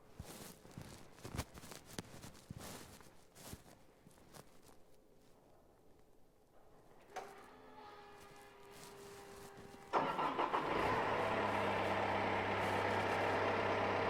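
A CLAAS Scorpion telehandler is started after some quiet shuffling and footsteps: a starter whine, then the diesel engine catches and settles into a loud, steady idle close by.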